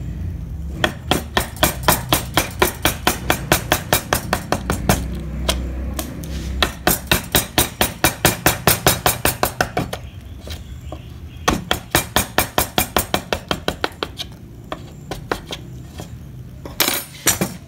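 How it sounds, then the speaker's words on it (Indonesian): A gouge chisel carves a concave hollow in wood. Sharp, rapid knocks come in quick bursts, loud and close, with short pauses between the runs of strikes. "kita bikin cekung menggunakan pahat penguku"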